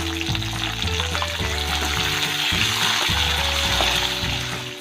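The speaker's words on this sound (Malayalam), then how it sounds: "കാഷ്യൂനട്ടും മുന്തിരിയൊക്കെ നന്നായി ഫ്രൈ ആയിട്ടുണ്ട്" Cashew nuts and raisins fry in ghee with a dense, even sizzle, punctuated by rhythmic stirring strokes every half second or so, close and steady without any speech.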